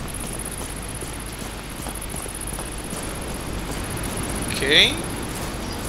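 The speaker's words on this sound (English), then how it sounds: "I'm hearing a bug." A steady, high-pitched chirring insect drone runs beneath constant rain hiss in the tropical beach and jungle setting of the game Escape: Sierra Leone, with a brief spoken word near the end.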